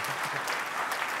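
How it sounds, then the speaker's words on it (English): Church congregation applauding during a sermon, a dense, steady wash of clapping filling the short moment at even loudness. "Come on, this is a place to applaud."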